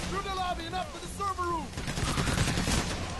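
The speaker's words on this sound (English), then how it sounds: "Oh, I'm being sniped." Sniper and automatic gunfire in Payday: The Heist, a dense crackle of shots filling the latter half, while a voice talks over the first part.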